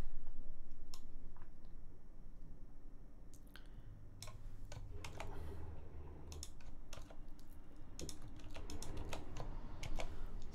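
Steady clicking of a computer keyboard as a name is typed into a Linux build file, with crisp separate keystrokes over a low background hum.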